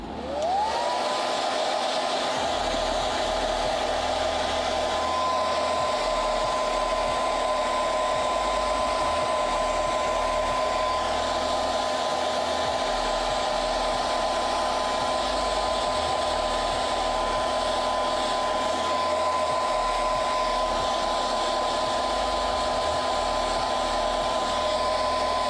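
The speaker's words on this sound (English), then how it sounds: "I'm going to use the hairdryer a little bit." A hair dryer blows steadily and loudly for the whole stretch, a constant whirring roar with a high motor whine and no talking.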